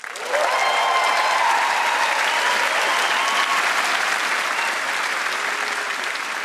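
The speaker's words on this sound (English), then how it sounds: "Let's make some noise for the sublime The Brutalist." A large awards-ceremony audience at the BAFTA 2025 film awards applauds The Brutalist, a dense, sustained wash of clapping and some cheering that holds steady at full strength for several seconds.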